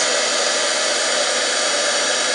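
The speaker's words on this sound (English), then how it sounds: "heat gun is a little quieter than this one" A loud, steady rushing hiss of a Stampin' Up heat gun blowing hot air onto candle wax, constant and close with no breaks.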